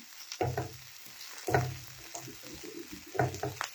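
Chopped capsicum hits a hot pan and fries with a steady sizzle, swelling in three louder bursts as the pan is tossed or stirred, close up with no talking.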